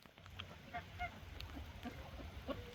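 Ducks and geese honk at their roost with a few short, nasal calls scattered over a faint outdoor background, fairly distant and quiet.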